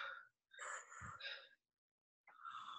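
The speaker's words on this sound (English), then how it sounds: "Inhale very deep" A person takes a few sharp, deep inhales in quick bursts separated by short silences, breathy and close, before speaking.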